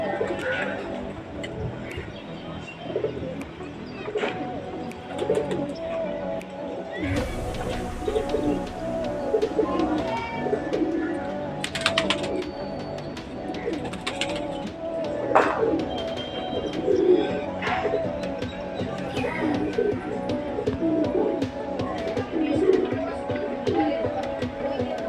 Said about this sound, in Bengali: এই 5টা পায়রা।